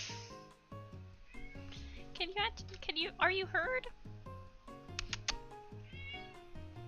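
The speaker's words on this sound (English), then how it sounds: "her meow is getting louder and louder every day" An aging cat with failing hearing meows loudly and repeatedly, its drawn-out, wavering cries rising between and over a person's nearby talk.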